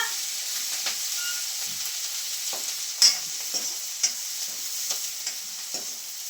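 Onions and chillies hit hot ghee after cumin for a tempering, giving a bright continuous sizzle with a few soft stirring taps and pops over a low flame.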